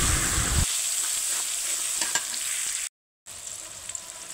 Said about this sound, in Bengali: ওই তেলে পেঁয়াজটা দিয়ে দিয়েছে